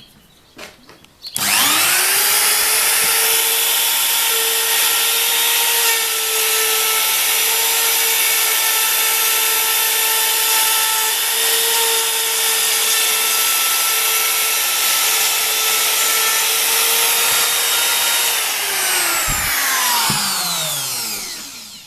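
A Vonhaus router spins up and cuts a line into a piece of wood, a loud steady high-pitched whine with a constant tone that holds for about seventeen seconds, then winds down as the motor slows.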